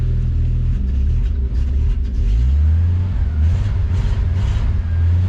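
A van engine with an old, stubborn carburetor catches and revs, giving a loud, close rumbling roar that rises and falls with throttle blips, with no one speaking.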